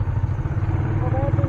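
A motorcycle engine gives a close, pulsing low rumble with a steady throb, and a brief voice rises over it near the end.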